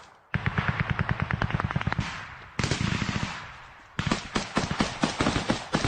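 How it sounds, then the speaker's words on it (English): Machine gun fire in combat against Russian positions in a tree line, heard as several rapid bursts of loud, sharp shots with brief gaps between them. "We can hear the machine gunner continuing to lay down fire onto the Russians."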